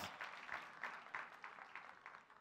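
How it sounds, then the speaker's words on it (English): Audience at a convention panel discussion applauding steadily, a moderate wash of clapping that stays even throughout the short stretch with no voices. "Why are you applauding him?"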